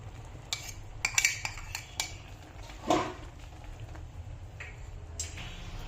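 A spoon clinks and scrapes against a pan while mixing grated coconut into cooked rice for akki usli, a few sharp metallic taps then a softer scrape, close and otherwise quiet.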